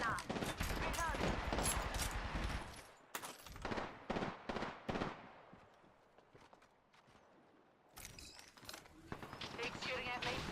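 Rapid bursts of game gunfire crackle in dense clusters, pausing into quieter stretches before resuming loudly, with spoken voices mixed in.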